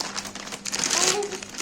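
A plastic bag crinkles up close in short rustling bursts that swell toward the middle, while people talk over it.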